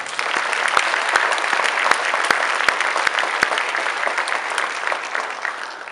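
A school concert audience claps steadily after a symphonic band acknowledgement. The applause is a dense, even patter with a few sharper close claps standing out, and it tapers off at the end.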